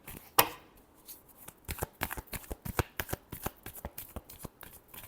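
Tarot cards are shuffled by hand up close, producing a quick, rhythmic run of crisp flicking and slapping clicks with no voice over it.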